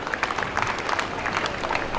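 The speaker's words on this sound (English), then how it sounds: "Please join me in applauding all our graduates" An audience at a university convocation in Ondo applauds the graduates, a dense crackle of many hands clapping at once, steady and moderately loud throughout.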